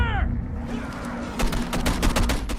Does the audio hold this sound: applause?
no